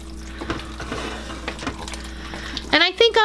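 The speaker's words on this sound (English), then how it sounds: "I'm just gonna add my beef stock here, just like that." Beef stock pours into a pressure cooker of macaroni, a soft splashing trickle with a louder liquid gurgle near the end, while a person talks over it.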